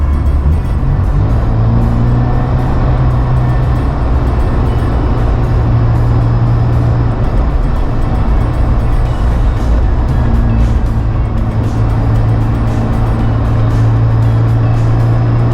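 A classic Mini drives along winding roads, its engine droning loud and steady from inside the car with a constant rumble and hum of road noise, no talk.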